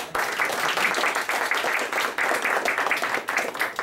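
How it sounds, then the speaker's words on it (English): An audience applauds the winners of an essay contest at a brownbag talk. Steady, dense clapping from a room of people fills the whole stretch at moderate volume with no pauses. "we will give them a round of applause."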